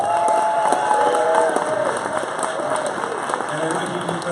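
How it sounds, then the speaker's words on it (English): An awards-show audience breaking into applause and cheering, a dense steady clapping wash with scattered whoops, loud at first and easing slightly over a few seconds. "give a huge round of applause to this gentleman here"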